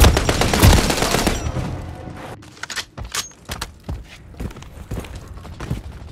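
Gunfire during a Call of Duty MW3 Domination match on the Satan's Quarry map: a dense, rapid automatic burst fills the first second and a half, then scattered, sharper single shots and clatter follow at irregular intervals.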